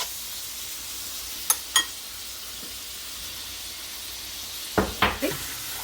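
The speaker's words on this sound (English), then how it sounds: "So I've added in 2 teaspoons of ginger and garlic into the oil. Let that saute on one side for a minute or two." Ginger and garlic sauté quietly in oil for a mutton curry, a faint steady sizzle with a few sharp utensil clinks near the start and a cluster of pan knocks toward the end.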